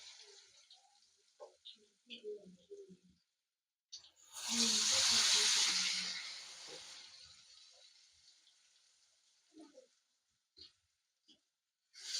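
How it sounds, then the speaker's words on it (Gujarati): Bread pakoda frying in hot oil: a burst of loud hissing sizzle rises suddenly and fades over a few seconds, framed by quiet clicks and light handling sounds before and after. "તેલ ગરમ થઈ ગયું છે તો હવે આપણે તળી લેશું"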